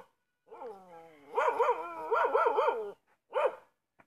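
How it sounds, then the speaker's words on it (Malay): A dog barks and yips in a rapid series of high, tonal calls, some rising and falling in a whining quality, fairly close and loud, with a short pause before a final bark. "Anjing."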